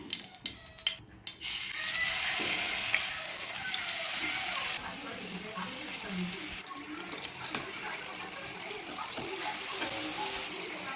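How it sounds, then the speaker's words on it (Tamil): Fish shallow fries in a little oil on a stove, a steady hissing sizzle with a few sharp crackles near the start, close and fairly quiet. "இப்போ நான் இந்த ஸ்டவ்வில் வந்துட்டு நான் ஃபிஷ் வந்து ஷாலோ ஃப்ரை பண்ணிக்க போகிறேன்"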